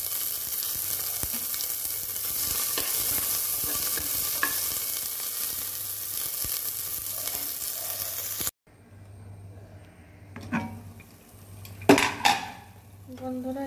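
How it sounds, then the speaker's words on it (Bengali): Onions and spices fry in a pan with a steady loud sizzle for about eight seconds, then it drops away, leaving quieter stirring with a few sharp scraping and clattering bursts near the end. "এই যে মশলা কষে যাচ্ছে"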